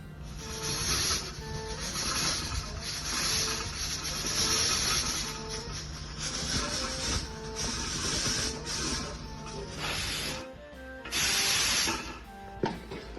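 A pressure cooker cooking mutton, hissing steam in repeated rising and falling bursts over a mechanical rattle, heard close with no talk.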